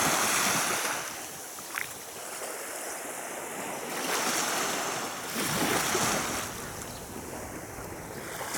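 Sea waves wash in steadily at the central beach in Gelendzhik on a rainy May morning, broad continuous surf swelling and fading under gusts of wind buffeting the microphone.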